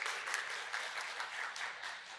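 Audience applause in a conference hall at an AIOps leaders' forum, welcoming a speaker to the stage; steady, dense clapping from a moderate-sized crowd, moderately distant, with no talk over it.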